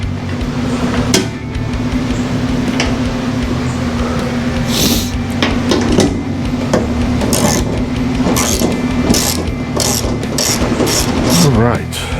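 Metallic clicks, ratcheting and tool clatter ring out in a garage as body panels are bolted onto a Chevy Nova, a series of sharp close knocks over a steady background hum.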